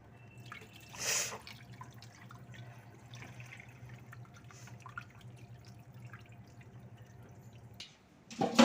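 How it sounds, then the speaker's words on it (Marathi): Wheat grains are washed in water: gentle sloshing and dripping with a brief louder splash early on, a low steady hum beneath, and a sharper clatter of grain and water at the end. "धुवून स्वच्छ 2-3 वेळा धुवून घेणार आहे."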